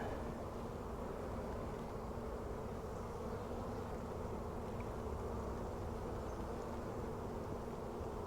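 A dense mass of honeybees packed on a frame during nuc installation hums steadily and continuously, a close buzzing drone with no talk.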